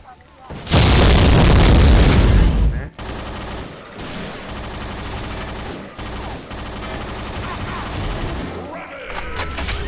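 In the online shooter XSHOT, gunfire and explosions erupt: a loud blast opens, then a sustained burst of rapid gunshots follows, with further bursts and pops continuing steadily, and a player's voice is heard among them.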